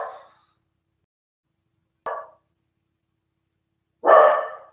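A dog barks three times in a quiet room, single sharp barks spaced about two seconds apart, the last the loudest and longest, with silence between and no talking.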